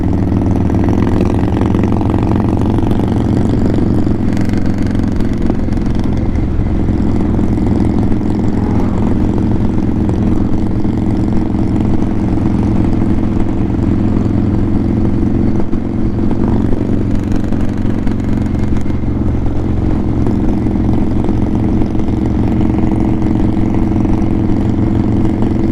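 Motorcycle engines rumble steadily at a bike rally, a loud continuous idling and cruising drone close by with no talk over it.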